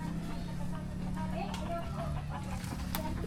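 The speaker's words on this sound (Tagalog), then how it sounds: "Ay nilang manok, oh." Chickens clucking near a rural home at dusk, faint, repeated clucks under a steady background murmur, with a person talking nearby.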